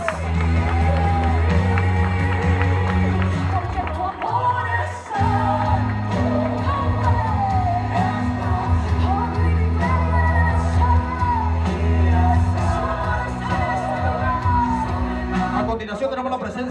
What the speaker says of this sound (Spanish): Aplausos para los papás.